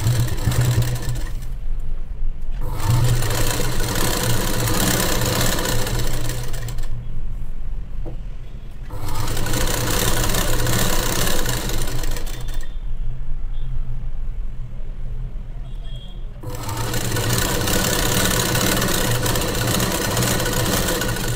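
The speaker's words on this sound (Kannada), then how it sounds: "ಈ ಥರ ಫೋಲ್ಡ್ ಮಾಡಿ ಸ್ಟಿಚ್ಚನ್ನು ಮಾಡಿಬಿಡಿ" Sewing machine stitching folded seams on a churidar, its motor running in long steady bursts with brief pauses between runs, loud and close with no talk.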